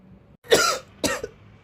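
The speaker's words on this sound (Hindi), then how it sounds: "मुझे खांसी हो रहा है" Two sharp, close coughs in quick succession, the second shorter, with brief quiet before and after.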